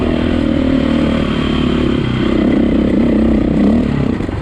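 A 2004 KTM 525 EXC four-stroke dirt bike pulls hard on choppy ground, its engine a loud, close, continuous roar with rough clatter. The pitch wavers slightly as it accelerates.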